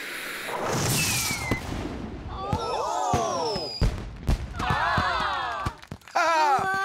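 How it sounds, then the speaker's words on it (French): A giant firework bursts in a cartoon scene with a whistling rise, crackling pops and sharp bangs, followed by sweeping sparkling tones, with a brief voiced groan among the effects. "place au feu d'artifice géant"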